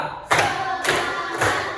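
Three firm hand claps spaced about half a second apart in a steady rhythm, close and loud, each with a short ringing decay, and no talking over them.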